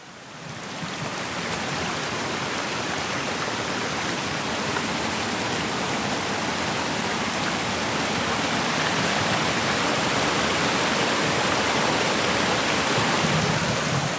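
Small waterfalls tumble along a stream on Dartmoor, a dense, steady rushing roar of water that stays loud and unbroken throughout, close at hand with no voices.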